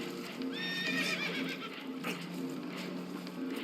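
Spooked horses whinny and neigh in Red Dead Redemption 2 aboard a damaged, leaking boat, one high shrill whinny followed by repeated snorting calls and restless hoof clatter, moderately close with no talk over it.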